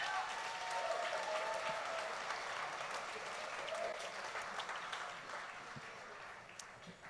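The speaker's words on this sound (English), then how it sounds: "please give a round of applause to the parents" At a wedding reception during the speeches, guests applaud the parents with sustained, fairly distant clapping that fades slightly toward the end, and a voice speaks over it.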